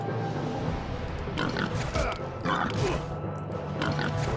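A pig in a city-building video game about Zeus and mythical monsters grunts and oinks repeatedly over busy game ambience, loud and close.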